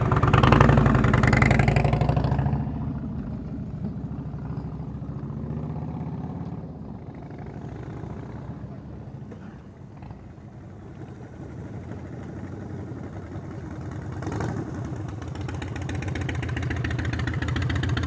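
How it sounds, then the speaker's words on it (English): A motorcycle engine during slow-speed riding practice, loud and close at first, then dropping to a lower mid-range drone that dips and swells again as the rider works through the gears. "You hear that downshift?"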